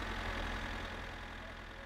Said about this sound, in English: loud-ass tractor here